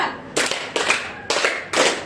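A class of students in a school counseling lesson clap together four times in a rhythmic pattern, each sharp, unified burst of many hands ringing out clearly with short pauses between.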